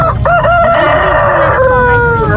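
Rhode Island chickens at a large animal market cluck and a rooster crows loudly and close by, layered over a constant crowd and market din.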